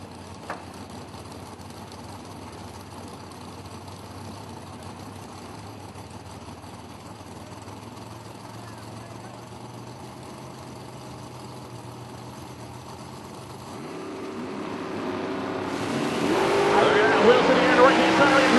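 A 1987 Camaro race car at a drag race, its engine a low steady idle under crowd and announcer talk before swelling into a loud, rising roar near the end.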